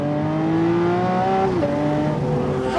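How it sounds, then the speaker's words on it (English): Lamborghini Aventador Roadster in Corsa mode accelerates hard, its engine note climbing steadily before an abrupt upshift drops the pitch, then it climbs again, loud and continuous from inside the car. "In the Corsa mode, the upshifts are violent"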